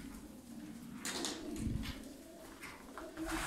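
Pigeons in a loft, including Çift Tepe birds, coo softly and steadily, with several low calls overlapping and some rustling movement, no talking.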